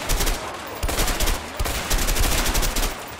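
Rapid automatic gunfire in the video game A Way Out, with loud, dense bursts of shots firing almost continuously and only brief pauses between volleys. No talking is heard.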